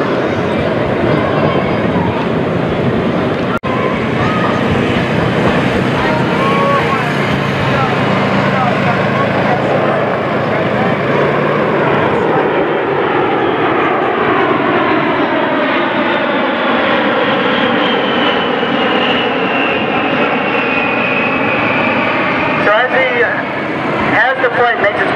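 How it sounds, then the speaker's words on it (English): A-10 jets from Whiteman Air Force Base, Missouri, roar past at the Miami Beach air show, a loud, continuous engine rumble whose pitch sweeps downward as they pass, under an announcer's amplified voice. "Coming from your left are the A-10s from Whiteman Air Force Base"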